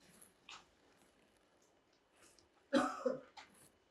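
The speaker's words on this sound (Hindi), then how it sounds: "ओ बड़ा खांसी।" A single close, hoarse cough bursts out after a quiet stretch, followed by a softer second cough.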